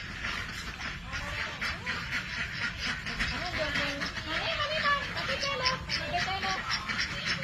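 Crested ducks quack repeatedly in short nasal bursts amid steady outdoor garden background noise, with people talking nearby.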